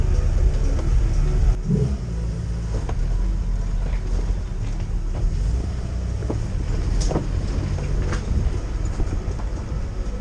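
An off-road vehicle creeps over an obstacle on a green lane in the Lake District, its engine a low, rumbling drone that rises and falls slightly, with scattered knocks and creaks from the wheels and body.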